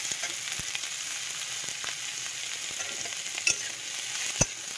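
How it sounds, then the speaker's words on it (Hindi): Onions frying in a pan for palak paneer, with a steady close sizzle and a few sharp scrapes and knocks of stirring, no talk. "अब प्याज थोड़ा सा भून जाएगा"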